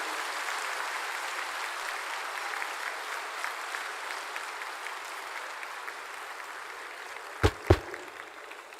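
A crowd at a Sant Ravidas birth anniversary event applauds Bihar Chief Minister Nitish Kumar, with dense, steady clapping that carries on throughout and two sharp louder thumps near the end.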